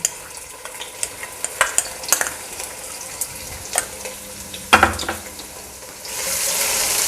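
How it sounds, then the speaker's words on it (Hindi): Utensil clatter and stirring scrapes, then a steady hiss of garlic sizzling in hot oil rises near the end, while cooking a beef liver fry. "लहसुन को हल्का सा सोते करना है इसको।"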